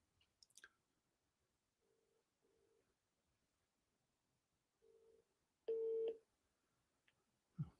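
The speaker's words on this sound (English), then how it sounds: "It's ringing." A telephone ringback tone on an outgoing call, short soft beeps in quiet, then a louder sustained tone with clicks and a bump at the end, no speech.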